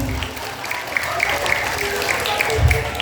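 Spectators at a Balinese Bondres comedy performance during the Ngadegang 2025 event at Banjar Adat Sampalan clap in a brief, moderate burst, mixed with steady musical tones and some crowd noise.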